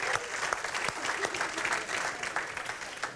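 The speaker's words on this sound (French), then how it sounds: "Donc, on applaudit." Audience at an annual general assembly of a Desjardins credit union breaks into applause, a fairly quiet but continuous patter of many hands clapping for a few seconds with no one speaking.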